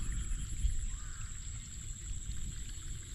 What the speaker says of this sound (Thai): น้ำไหลแรงมาก